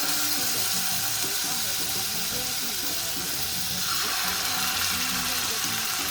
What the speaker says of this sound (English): You want those meatballs sizzling.